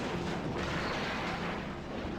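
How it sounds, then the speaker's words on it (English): A 105 artillery battery firing in the video game WARNO, a dense, continuous roar of booms and rumbling blasts that fills the whole moment without a break. "So I did start battery fire with that 105 on the positions where these mobile mortars were."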